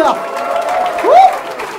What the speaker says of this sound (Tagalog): aking pong inihingi ang malakas na palakpakan at sigawan ng bahay katay!